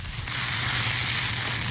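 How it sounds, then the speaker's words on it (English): Steady roaring crackle of dry brush burning in a Florida wildfire, a dense continuous hiss with a low rumble underneath, no voices. "That's the sound of Florida's dry brush going up in smoke."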